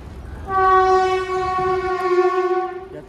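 A passing train sounds a loud, sustained horn nearby for about two and a half seconds, with rumbling underneath and no talking.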